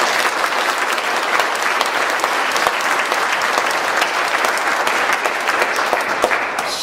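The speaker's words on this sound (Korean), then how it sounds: "우리 박수 한번 칩시다" A church congregation claps together in a steady, dense round of applause that holds evenly throughout, moderately loud, with little talk over it.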